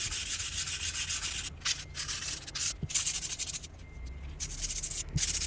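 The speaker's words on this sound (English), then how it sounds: "I sanded the jesmonite tray, and now I'm sanding the cement one." Hand sanding of a cast cement tray makes continuous rough, scratchy rubbing strokes, close and fairly loud, with brief pauses between passes and no talking.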